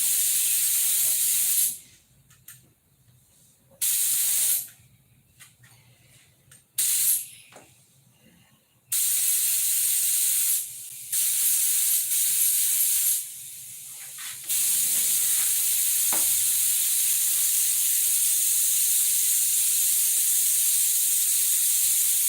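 Spray gun spraying clear coat in a home workshop, a steady loud airy hiss broken by several short pauses early on, then running continuously for the last stretch.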